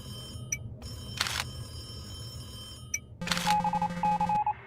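A telephone rings in a horror video game, electronic ring tones breaking in among brief bursts of static and noise, then a steadier repeating beep near the end.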